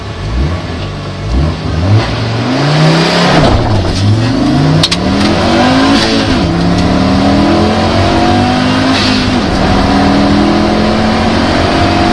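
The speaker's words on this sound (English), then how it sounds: "So we do an acceleration test" An Audi S2 car engine revs and accelerates hard, pitch climbing through several gear changes, loud and close with no talking.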